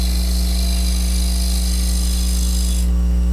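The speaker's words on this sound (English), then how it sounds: "Now I'm cutting a very shallow cove here." A wood lathe hums loudly and steadily while a Hunter Badger cupped carbide turning tool cuts a shallow cove, with a constant motor drone and a faint cutting hiss.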